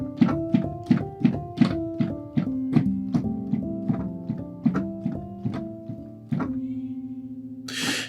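A digital piano's second layer, set to a felt mallet tone, plays soft-attacked percussive notes in a rhythmic run that ends on a sustained note, close and alone, with a brief noise at the very end.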